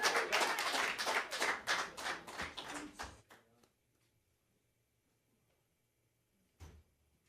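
Audience applause at a live showcase event, a few seconds of clapping that starts loud and fades out into near silence, followed by one faint thump.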